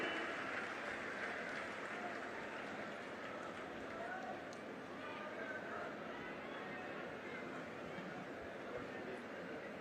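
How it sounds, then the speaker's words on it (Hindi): Sustained applause from a large audience at an outdoor public event with Uttar Pradesh Chief Minister Yogi Adityanath in Amroha, a dense steady wash of clapping and crowd noise filling the whole stretch without a break. "सभी की जोरदार तालियां"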